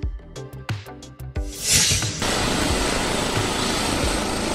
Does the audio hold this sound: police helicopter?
yes